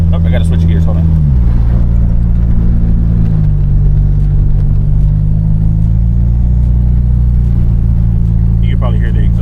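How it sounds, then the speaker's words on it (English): A turbocharged Eagle Talon TSi with an exhaust leak and an upgraded 20g turbo drones loudly from inside the car while driving, a deep engine rumble whose pitch steps down through a gear change as a person talks over it. "You can probably hear the exhaust leak though."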